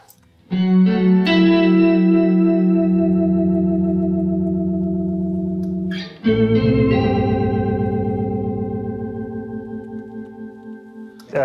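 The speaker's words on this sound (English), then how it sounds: "turn the modulation all the way up so that you can really hear that thing change speed" Two long sustained guitar chords through an MXR Poly Blue Octave pedal, each thick with low octave doubling and a wobbling modulation whose pulsing rate shifts as the notes ring out.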